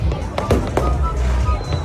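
A firecracker going off, heard as several sharp bangs and cracks over a low rumbling background, with a voice speaking alongside.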